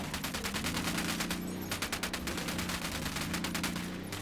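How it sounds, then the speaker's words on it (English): Rapid automatic gunfire rattles in Tom Clancy's Ghost Recon Wildlands, a loud sustained burst of fast repeated shots that breaks off briefly near the middle, then resumes and keeps going with no talk. "Wilco, I'm opening fire on these shitheads."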